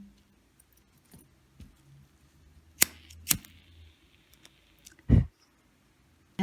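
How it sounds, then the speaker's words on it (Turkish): Scissors snip excess fishing line while a beaded bracelet is made, a few sharp close clicks spread over quiet moments, with faint rustling between cuts. "Fazlalık misinamı kesiyorum."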